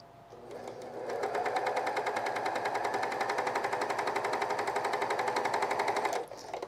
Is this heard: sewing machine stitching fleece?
yes